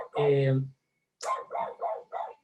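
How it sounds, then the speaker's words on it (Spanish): A small dog gives one longer bark followed by a quick run of four short yips, close and clear, with quiet gaps between. "ahí lo tenemos el perrito ladrando que siempre me hace la segunda"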